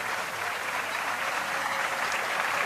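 Staff at the Élysée palace applaud as the president-elect escorts François Hollande to his car, a steady outdoor patter of many hands clapping, moderately distant and unbroken throughout.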